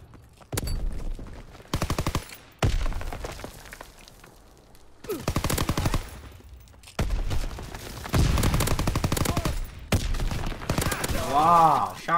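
Shotgun and other gunfire in a fast online shooter game, repeated loud bursts of rapid shots in clusters, with a player's voice talking over parts of the action.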